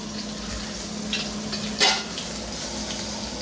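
Onion, tomato, chilli and mustard seeds roasting in oil for pulao, giving a steady close sizzle with a few light scrapes and one sharper clink of a spoon against the pan.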